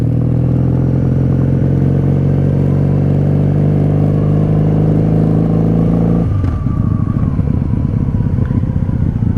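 A 1997 Honda Magna VF750C cruiser roars at steady highway speed, its V4 engine droning loudly and continuously up close, with a brief shift in pitch partway through as the rider changes gear.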